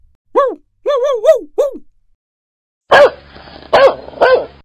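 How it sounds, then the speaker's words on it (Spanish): A cartoon dog barks in the Sid the Science Kid video game. A few bright, sharp barks come close and loud right after a short voiced call, with silence between. "¡Sí! Un perro."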